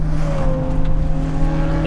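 A crash-rebuilt Toyota Supra time attack car drives on a race track at part throttle, its engine droning loud and steady from inside the cabin with a sustained tonal whine, no voices.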